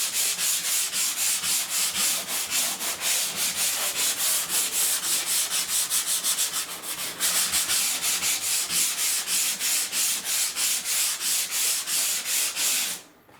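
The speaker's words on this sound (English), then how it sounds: "you can keep going and sand the rest of them" Drywall patch being sanded by hand, a steady run of quick back-and-forth scratchy strokes, close and fairly loud, continuing without pause for about thirteen seconds before stopping.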